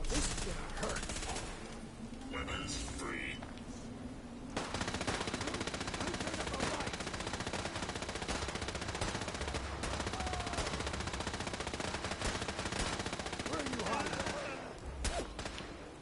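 Video game gunfire in Fallout 4 plays out as dense, sustained rattling bursts and shots under a busy game soundscape, continuing almost without break, with a voice occasionally talking over it.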